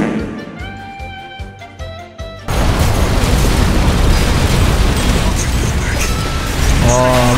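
A rocket explodes in a video game: after a stretch of steady tones, a sudden loud, broad blast erupts and roars on for several seconds, close and dense, with a faint voice near the end.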